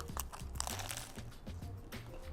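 Crisp crunching of a tofu lettuce cup with sweet soy sauce being bitten and chewed up close, several crinkly crunches repeating through a short stretch with no talk.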